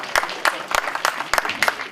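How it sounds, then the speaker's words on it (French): Applause from the audience at the opening of a pétanque tournament: a burst of clapping from a gathered crowd with sharp individual claps standing out, and voices underneath. "Un tonnerre d'applaudissements."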